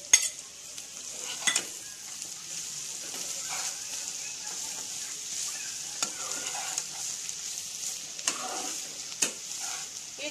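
Chicken and egg stir-fried in a pan over high heat for chicken fried rice, a soft steady sizzle broken by intermittent spatula scrapes and light clinks against the pan.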